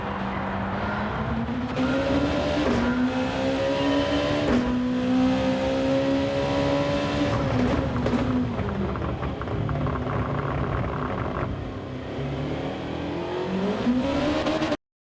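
Race car engine in a racing video game at Suzuka Circuit, revving hard and held in low second gear, its pitch rising and dipping steadily through corners as the car spins, loud and continuous with no talk.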